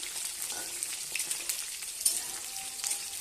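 Whole onions and garlic frying in mustard oil in a wok, a faint, even crackling sizzle with light spattering pops, no voices.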